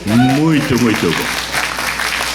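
Applause for a singing duo at a Macau community event rises beneath a voice speaking in Portuguese, continuing as a broad, even crowd clapping after he stops.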